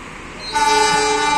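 An empty cement freight train bound for Nambo, hauled by a CC 206 locomotive at Purwokerto, gives a bright sustained horn blast that swells in partway through over a rumbling background, close and loud.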